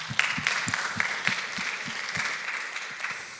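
Applause from an audience at a live conversation event on human genetic engineering, moderately quiet and slightly distant, with a steady wash of clapping and a few sharper claps standing out over roughly three seconds.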